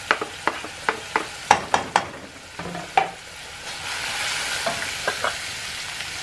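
Plenty of garlic going into a hot pan for a simple home dinner, with a series of sharp taps and scrapes of a spoon stirring, then a soft steady sizzle rising underneath, close up and without speech.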